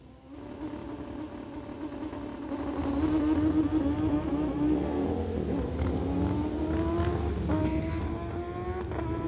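A 2008 Suzuki drag racing motorcycle launches and screams down a street-legal drag strip, its engine note climbing through several rising gear pulls, loud and sustained, with a second bike audible nearby.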